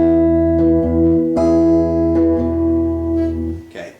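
A lone guitar picks the next section of a song, clear ringing notes struck at an easy pace with sustained tones that fade out at the end.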